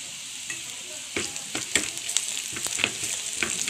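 Sago grubs fry with tempoyak (fermented durian) in a pan for a Bidayuh recipe, a constant crackling sizzle broken by several sharper scraping stirs of the utensil against the pan.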